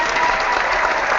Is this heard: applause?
yes